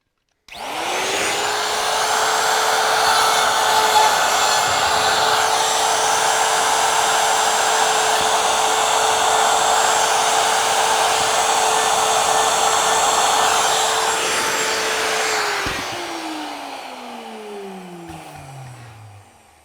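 A router with a 1/4 inch trimming bit cuts wood veneer flush on an X-LS speaker cabinet, a loud steady high-pitched whine running about fifteen seconds before the motor winds down and fades out.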